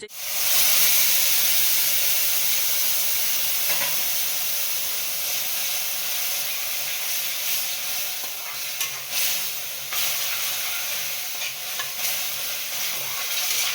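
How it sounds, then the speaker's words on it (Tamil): Masala and chicken fry in hot oil with a loud, steady sizzle and hiss that begins abruptly. It carries on unbroken, with faint stirring scrapes and clinks now and then. "இது நல்லா கொஞ்சம் ஆயில்ல ஃப்ரை ஆகட்டும்"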